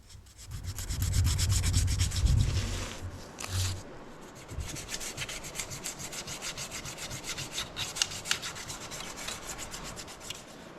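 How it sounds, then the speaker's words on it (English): Fine 1200 grit sandpaper rubbed by hand over the gasket seat of a Delphi fuel pump on a Peugeot 307cc 2.0 HDI, a steady close raspy scrubbing with dense rapid strokes, heavier at first then lighter and even. "now I'm using some 1200 grit sandpaper to really smooth the place where the gasket will sit"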